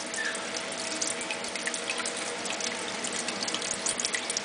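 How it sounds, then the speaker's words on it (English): Grape juice poured slowly through a cloth filter for jelly, giving a soft continuous trickle and light splashing with small irregular drips, close and fairly quiet with no voices. "Pour it slow and let it trickle on through your filter"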